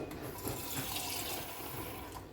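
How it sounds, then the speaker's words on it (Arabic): Water poured from a tap into a cooking pot in a home kitchen, a steady continuous splashing hiss at moderate level with no voices. "المهم غادي ندير شويه ديال الماء"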